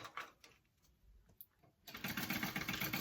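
A sewing machine stitches a quarter-inch fabric seam, a few soft taps giving way after a short pause to a steady, loud mechanical whirr running continuously to the end.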